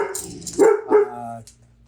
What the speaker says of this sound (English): Oh, and there's the dog.